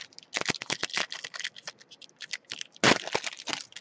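Crinkly tearing of the foil wrapper on a Topps Stadium Club baseball card box, a burst of close, sharp rips and crackles with a louder tear near the end, no talk.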